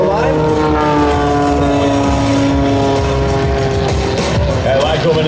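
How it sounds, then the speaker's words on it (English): A red aerobatic propeller plane with a Lycoming engine drones steadily at an air show, its engine tone sliding gradually as it passes, loud and continuous under a commentator's voice. "That Lycoming engine really pulling her through the skies today with a lot of horsepower."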